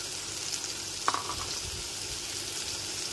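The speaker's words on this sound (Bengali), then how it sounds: "এর মধ্যে দিয়ে দিচ্ছি একটা টুকরো করে কেটে রাখা টমেটো।" Chopped tomato tipped into ginger paste frying in a pan: a steady, close sizzle throughout, with a brief soft clatter as the pieces land, no voices.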